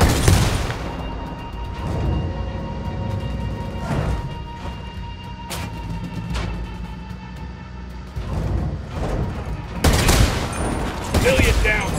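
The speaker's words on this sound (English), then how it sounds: "Opening fire." Gunfire rings out in Ghost Recon Wildlands: bursts of shots and sharp cracks over a constant engine drone of an APC, with heavier, louder volleys near the end.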